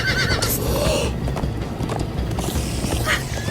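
Horses neigh and gallop in the Minecraft Story Mode video game, with rapid hoof clip-clops and whinnies up close, loud over a creaking, mechanical backdrop.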